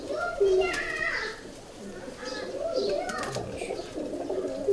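Imamdin pigeons cooing softly in low repeated phrases, fairly close, with a few chirps and background voices talking over the birds.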